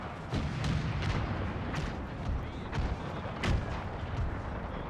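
Repeated cannon fire from 12-pounder artillery in a strategy game set in the 1866 Austro-Prussian War, several booms and sharp cracks at irregular intervals over a dense, continuous battle din, with no talk.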